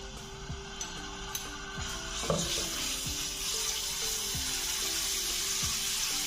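A tablespoon of minced garlic fries in about two tablespoons of hot oil in a frying pan, giving a close, continuous sizzle broken by a few light knocks and taps.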